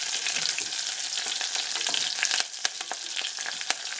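Onions, small shallots, garlic and green chillies sauté in hot oil in a pan for a dried-fish curry, giving a steady, close crackling sizzle with a few sharper pops and stirring knocks toward the end.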